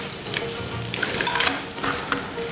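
Steak frying in a hot pan just after being flipped, a steady close sizzle with light crackles and small clinks of the pan running throughout, no talk.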